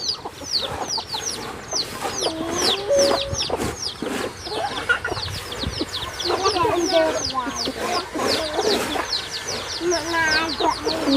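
White chickens cluck and chirp busily and close by, a lively stream of overlapping short calls with some voices mixed in.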